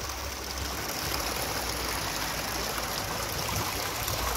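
Mountain stream water running down from the hills, a constant rushing flow with a steady, full roar and no break, close and moderately loud, with nobody speaking.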